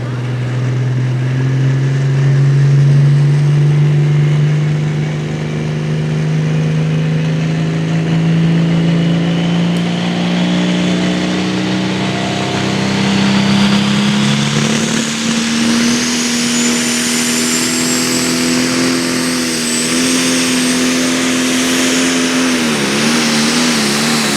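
A 4,000 horsepower tractor pull engine roars down the track at a high-horsepower pulling event, a loud sustained drone that climbs steadily in pitch for over twenty seconds and wavers near the end.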